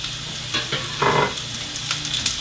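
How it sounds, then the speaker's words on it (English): Sliced zucchini sizzles in olive oil in a hot pan with a steady crackling hiss, broken by brief louder spatters as the pieces are stirred, close and alone without talking. "we're going to saute that up with a little olive oil. Ah, it's sizzling, perfect."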